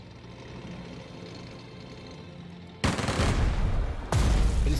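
A tank attacks an enemy unit in the WWII-era strategy game Strategic Mind: Spectre of Communism. Quiet ambience gives way to two loud, sudden bursts of cannon fire and explosions, the second following about a second after the first.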